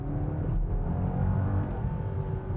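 Low, muted engine hum from a 2025 BMW M5 Touring's 4.4-liter twin-turbo V8, a steady subdued rumble with a faint whir, heard from inside the cabin and notably quiet.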